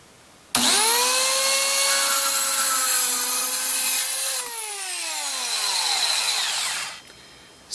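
A Rockwell Versacut mini circular saw spins up with a sharp whine, holds a steady high-pitched buzz, then drops lower and strains as it plunges and cuts, before winding down near the end; close and loud with no talk.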